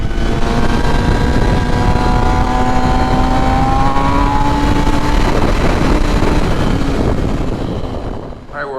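A 2021 MV Agusta Rush motorcycle engine running on a dyno, loud and close, holding a strong steady drone with rising harmonic tones before it fades out at the end.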